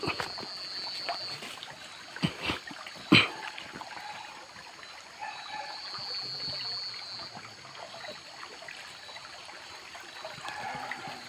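Flowing river water, steady and trickling, during a river crossing on foot in a forest, with a few brief splashes and knocks near the start.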